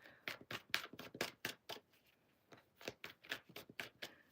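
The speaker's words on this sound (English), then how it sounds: "Three more shuffles." A tarot deck is shuffled by hand close up, giving quick, crisp bursts of card riffling in an uneven rhythm with a short pause midway.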